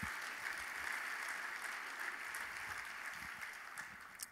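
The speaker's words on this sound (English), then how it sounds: "please give yourselves a round of applause." An audience of administrators at a career-tech conference's closing general session applauds steadily, the clapping fairly distant and sustained throughout.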